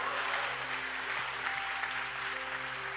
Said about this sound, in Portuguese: Quantos podem aplaudir o Senhor por isso?